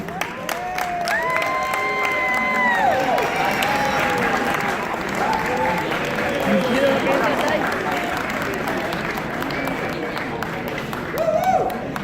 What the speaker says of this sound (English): One big round of applause for them